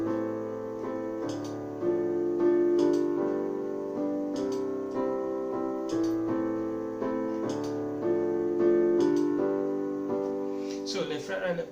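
Slow highlife rhythm with a 1-6-4-5 chord progression played on piano with the sustain pedal, steady repeated chords ringing into each other at moderate loudness, alone with no voices, ending in a brief bright flourish.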